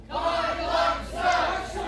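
Wrestling crowd at a live show reacting with rising shouts and cheers, a dense continuous roar that swells twice over a couple of seconds, with no clear single voice standing out.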